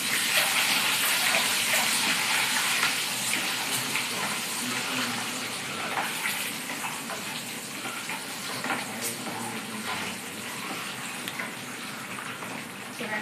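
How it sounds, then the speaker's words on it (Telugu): Food fries in a pan after turmeric has been added, giving a continuous close sizzle with watery crackle and occasional stirring scrapes, steady and fairly loud. "బాగా ఫ్రై అయింది కదా, కొంచెం పసుపు వేసుకున్నాము."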